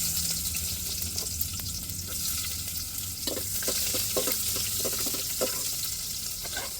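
Onions fry in oil for tempering, sizzling and crackling steadily in a pan, with a brief scraping stir partway through, close and continuous.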